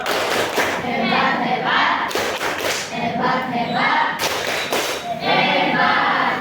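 A sixth-grade class at an elementary school claps a rhythmic group cheer for a classmate, several loud, sharp bursts of unison clapping in short patterned sets, with children's voices underneath.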